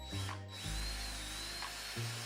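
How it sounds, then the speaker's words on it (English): A power drill with its smallest bit whirs steadily, revving up and down in short bursts as it bores into a wall, close and fairly quiet overall. "That was me using my drill bit, the smallest one that I have"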